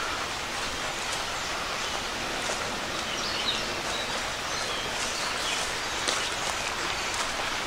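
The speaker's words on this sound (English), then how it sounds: "I think I hear a creek up ahead." A small creek flows beside a hiking trail, a steady broadband rush of trickling water close by with faint bird calls above it.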